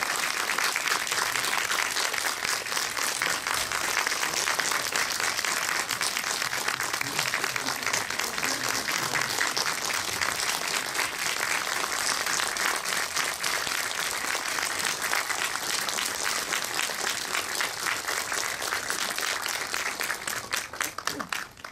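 Audience applause in a hall at the Tokyo International Film Festival Q&A, a sustained, loud, dense round of clapping that runs unbroken for about twenty seconds before beginning to thin out.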